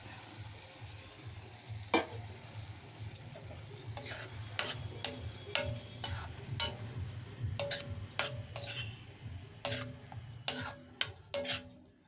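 Cooked lentils being stirred into tender tamarind leaves in a pan, with a faint sizzle under repeated sharp clicks and scrapes of a spoon against the vessel, no talking.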